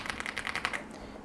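Typing on an Arula 75 mechanical keyboard at a desk: a quick run of about a dozen crisp, clacky keystrokes close up, then a brief pause with a few lighter taps, no voices.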